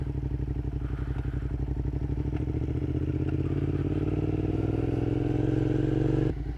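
Steady engine drone of a Suzuki SV650 motorcycle heard while riding, a constant rumbling tone that rises slightly in pitch as the bike gains speed and then cuts off sharply at the end, with wind noise and no talking.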